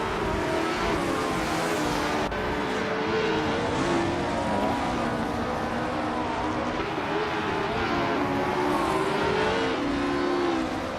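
A 1965 Cooper T77 race car in a racing video game drones continuously, with engine tones rising and falling as it is driven and other cars blend in alongside.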